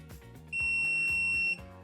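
A Mustool MT11 multimeter gives a single steady, high-pitched continuity-test beep lasting about a second, close and clear over a faint background hum.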